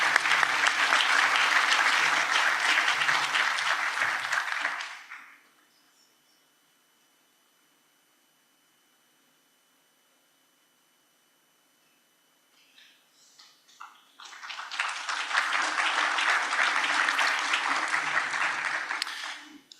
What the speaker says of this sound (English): let's give Zachary a round of applause